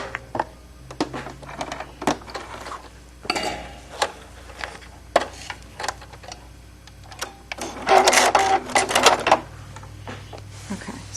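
A sewing machine back stitches elastic casing made from bias binding, running in short, irregular clattering bursts with a busier stretch near the end and light clicks and handling noises in between.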